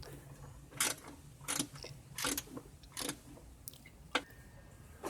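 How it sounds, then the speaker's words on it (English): A socket wrench loosens bolts on a 2009 John Deere LA105 riding mower, giving about six short ratcheting bursts spaced roughly evenly, close and crisp over a quiet background, with no talking. "so I will loosen those with a socket, then use a wrench to go the rest of the extraction"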